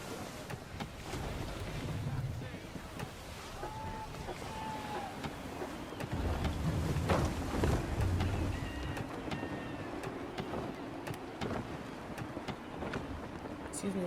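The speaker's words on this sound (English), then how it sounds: "Gusty winds can be difficult to manage." Gusty wind rushes and waves wash around a sailing ship in Assassin's Creed III Remastered, a steady broad roar that swells louder midway, with faint creaks and occasional voices in the background.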